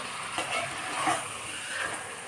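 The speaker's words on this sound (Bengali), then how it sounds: "মাংসটাকে যত কষানো যাবে ততই টেস্ট হবে" Chicken kosha sautéing and being stirred in a pan gives a steady, close sizzle with soft scraping swells from the stirring, and no voices.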